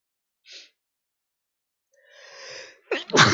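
A single sneeze at a tabletop game session: a soft intake of breath, then the sharp explosive burst near the end, with a faint short sound earlier and otherwise quiet.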